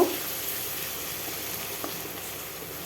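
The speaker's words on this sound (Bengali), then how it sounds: "দিয়ে দেব সরিষা পোস্ত পেস্ট দুই চামচ আবারও একটু ভেজে নেব" Mustard-poppy seed paste frying with softened tomato for a Bengali pomfret curry, a steady even sizzle and hiss close by, with one faint knock near the start; no voices.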